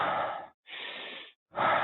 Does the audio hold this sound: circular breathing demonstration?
yes